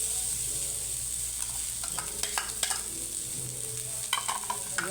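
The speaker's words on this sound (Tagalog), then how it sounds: "Tapos, lalagay na natin yung ating bawang sibuyas" Garlic and onion fry in a pan with a little oil, cooked alongside scrambled egg and pechay: a steady close sizzle with scattered scraping stir strokes, no talking.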